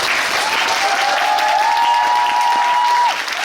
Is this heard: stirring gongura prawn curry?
no